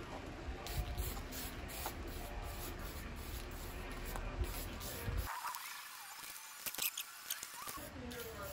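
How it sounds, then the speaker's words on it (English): Gold spray paint can hissing in bursts onto 1967 Pontiac Firebird Rally II wheels, with faint rattles and handling noise, close by, while someone talks quietly in the background. "So we're just going to spray this down and make her look a little gold today."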